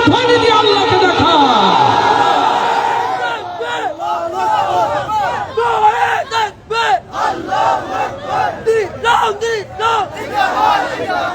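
A large crowd at a live gathering in Sylhet chants the takbir, first as a loud sustained mass roar, then as rhythmic repeated shouts of many voices, close and filling the space.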